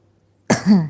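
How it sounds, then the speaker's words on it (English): A single sharp cough, close and loud, after a moment of near silence. "excuse me, I cough a lot"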